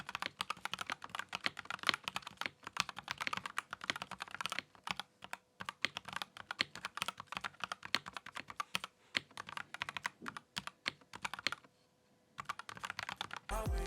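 Steady, rapid typing on a Kemove K87 mechanical keyboard, close and light-sounding clicks in continuous bursts with a short pause near the end.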